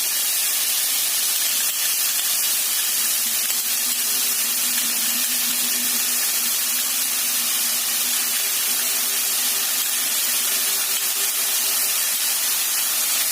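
Seasoning sauce is poured into a hot pan of bamboo shoot filling for mini fried spring rolls, raising a loud, constant steamy hiss that carries on unbroken, with no talking.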